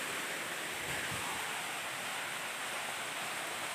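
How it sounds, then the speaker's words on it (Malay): A waterfall gives a steady, full roar of falling water with no break and no other sounds over it. "ada air terjun."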